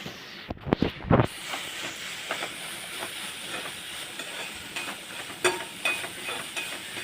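Tomato masala sizzling in a pan for a cauliflower and pea dish, with a few quick stirring clatters at the start and then a continuous frying hiss spotted with small pops as asafoetida goes in, no talking.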